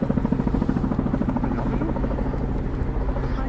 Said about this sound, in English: the aircraft's going to run on approximately 60 knots, touch down at Crown Centre